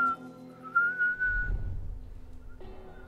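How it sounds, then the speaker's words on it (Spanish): A character in The Last of Us whistles a steady tune, clear and close for about a second and a half, then the melody gives way to low rumbling game sounds before a fresh tone enters near the end. "¡Estoy silbando!"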